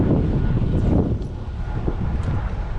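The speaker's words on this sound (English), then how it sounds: "this is going to be difficult with the wind" Steady outdoor wind at fishing ponds, a continuous low rumbling buffet against the microphone that swells and eases without pause throughout.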